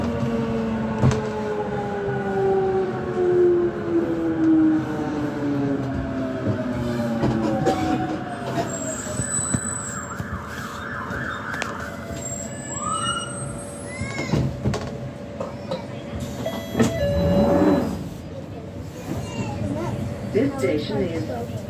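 Jubilee line 1996 stock Underground train running between Stratford and North Greenwich, with motor whine rising and falling in pitch and steady rumble throughout, under onboard announcements and a voice.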